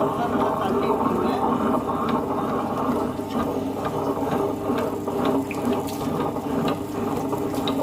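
Water poured into urad dal batter churning in a wet grinder for idli. A continuous, fairly loud wet swishing runs over the grinder's steady mechanical rumble, with faint clicking ticks scattered through it.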